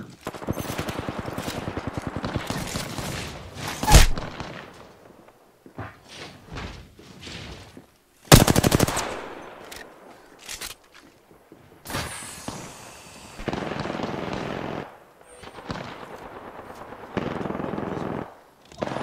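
Gunfire in a first-person shooter video game, shots fired through a wall in loud, sharp bursts and rapid volleys separated by short silences, with heavy thumping impacts scattered throughout.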